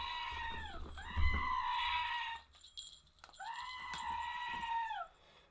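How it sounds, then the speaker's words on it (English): A goat bleats twice in long, wavering, nasal cries, each lasting about two seconds with a short pause between them, fairly close and heard alone over a low background rumble. "You can chill here with the goat"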